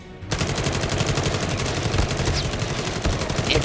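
Sustained, rapid assault rifle fire rattles through a Call of Duty Mobile match, loud and continuous with no pauses and no voices.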